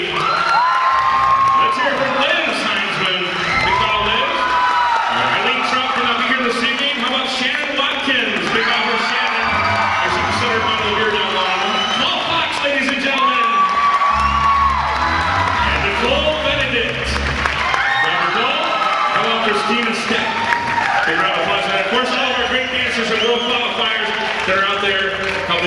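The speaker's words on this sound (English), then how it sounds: "Big round of applause for Marie." A big crowd claps and cheers without a break at an Irish dance school show, steady loud applause with whoops and shouts rising above it and someone speaking over the noise now and then.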